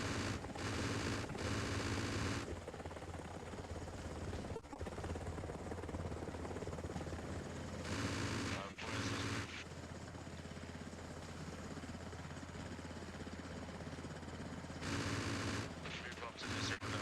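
Helicopter gun run in a military operation: a steady rotor and engine drone runs throughout, broken by three loud bursts of machine gun fire, each a couple of seconds long, with faint voices beneath.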